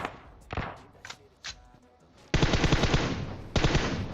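PUBG Mobile video game gunfire: a few isolated single shots, then two sustained bursts of rapid automatic fire, loud and close.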